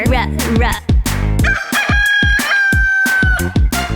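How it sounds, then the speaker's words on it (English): A loud rooster crow rings out close by, mixed with busy clucking and rhythmic farmyard sounds. "R is for rooster. Cock-a-doodle-doo."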